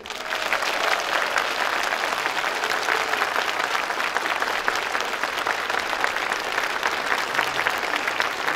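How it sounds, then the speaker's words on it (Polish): An audience at a religious concert in Głuszyca bursts into sustained, dense applause, loud and steady for the whole stretch with no talking over it. "rzęsistymi oklaskami przywitają jakże serdeczni, gościnni, wspaniali mieszkańcy Głuszycy"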